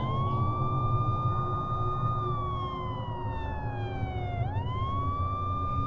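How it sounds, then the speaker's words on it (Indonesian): A police siren wails steadily with a long rising and falling tone, fairly faint and distant over low background rumble. "aku mendengar bunyi sirine"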